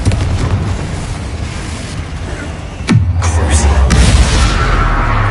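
A Confringo spell explosion in the Hogwarts Legacy video game, one sharp blast with a falling whistle and a deep rumble that hangs on, set over a steady loud background of game noise.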